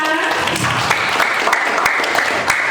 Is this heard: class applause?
yes